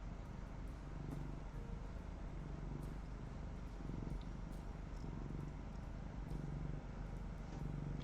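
A pet cat purrs steadily and close up, a continuous low rumbling drone with faint rhythmic pulses, alone without talk throughout.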